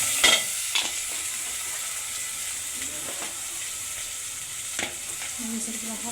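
Spices with turmeric and coriander powder fry in hot oil for a rohu fish-head dish, a close steady sizzle broken by a few sharp clinks and scrapes of a stirring spoon, with no talk.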